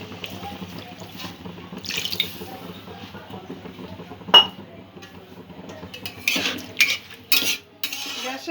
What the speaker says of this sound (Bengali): অল্প একটু জল দিয়ে চালটা প্রথমে ফুটিয়ে নেব কিছুক্ষণ।